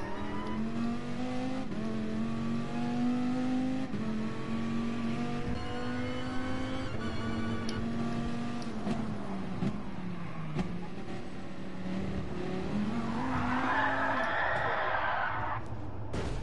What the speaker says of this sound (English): My drift is intense today.